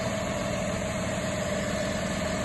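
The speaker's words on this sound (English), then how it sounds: "That tractor sounds nice." A tractor engine idles at steady low revs nearby, a constant even drone with a faint tonal hum and no talking.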